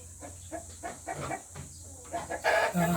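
Decal Brown crossbreed chickens cluck in short, quiet bursts on a farm, with a louder squawk near the end.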